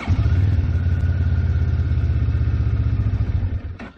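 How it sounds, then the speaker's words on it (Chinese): A CFMoto 650GT motorcycle engine idles close by with a steady low, throbbing rumble and faint clatter, fading out near the end as if switched off. "往下拨是启动发动机，"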